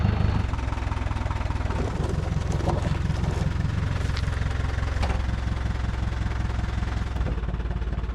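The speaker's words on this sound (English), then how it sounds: "First thing we need to do is get the tractor and move this car into a better position." A tractor engine runs steadily nearby at a scrapyard, a continuous low idling rumble with even vibration and no talk.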